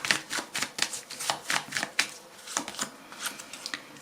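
Tarot cards being shuffled close up, a steady run of crisp riffling bursts and slaps repeating for several seconds with no voices.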